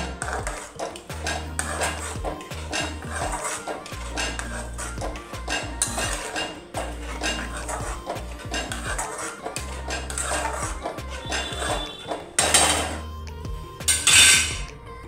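Metal spoon scraping and clanking against a cooking pot while soybean gravy is stirred, repeated uneven clatters with a few sharper knocks near the end.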